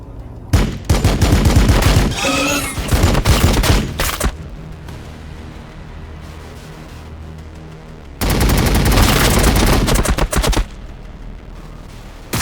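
Bursts of automatic gunfire in Warhammer 40,000: Battlesector, loud rattling volleys at the start and again near the end with a quieter stretch of low rumble between them.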